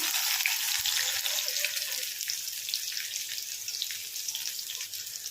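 Cut onion drops into hot tempering oil with dried red chilli for a bitter gourd pulusu, giving a steady bright sizzle and crackle that continues evenly throughout without talk.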